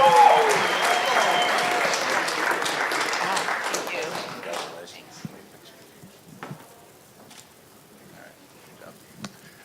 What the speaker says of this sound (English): big round of applause, you guys